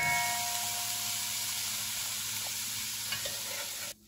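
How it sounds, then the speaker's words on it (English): Onion, celery and other vegetables sweating in a pan over medium heat give a steady, close, even sizzle and hiss that runs unbroken, then cuts off abruptly near the end. "we're just gonna let it sweat until the veg is just tender"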